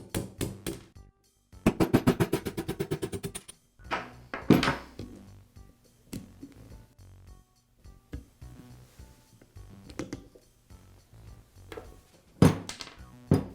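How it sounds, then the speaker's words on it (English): Sharp metallic taps of a small punch driving roll pins out of a Bostitch nailer trigger valve during a TVA11 trigger valve kit repair, a series of close knocks in uneven bursts separated by quiet pauses. "There's a small punch that comes with the trigger valve kit you can use to remove them"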